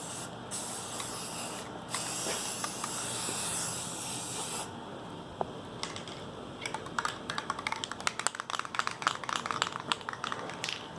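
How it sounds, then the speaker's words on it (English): Close spray can bursts hiss loudly, a long spray then a pause, followed by shorter spurts mixed with rattling clicks. "And then we'll start spraying it."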